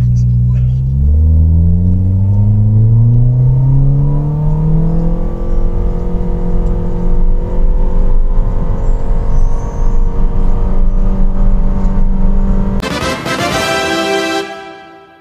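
A car in normal drive mode accelerating from rest, engine note climbing through rising gear pulls in a loud, steady cabin drone that cuts off abruptly near the end.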